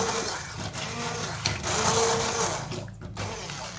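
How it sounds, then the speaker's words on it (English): A hand blender whirs steadily through a sauce just taken off the heat, a continuous close motor drone with slight shifts in pitch as the blade moves through the liquid. "Take your hand blender and start to blitz it."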